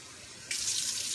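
Water from a tap starts abruptly and runs in a steady, soft hiss as about one and two-thirds cups fill a measuring cup, close by and alone.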